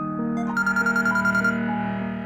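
A phone ringtone plays in a Hindi TV serial scene, a steady melodic electronic tone that keeps ringing at an even level for a couple of seconds with no voices over it.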